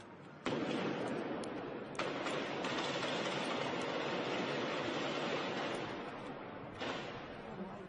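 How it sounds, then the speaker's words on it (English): Bursts of gunfire ring out as police storm the Lindt Chocolate Cafe in Sydney to rescue hostages: several sharp distant cracks over a dense, sustained roar of noise that fades slightly toward the end. "Listening to that gunfire is"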